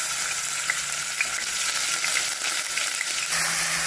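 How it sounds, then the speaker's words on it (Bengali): Ginger garlic paste sizzles and fries steadily in hot ghee in a pan, a loud, continuous crackling hiss close by with no talking, part of cooking dal makhani. "তো যথারীতি ঘিটা গরম হয়ে আসে, এখন আমি এর উপর থেকে ginger garlic paste 1 table spoon আমি দিয়ে নেব।"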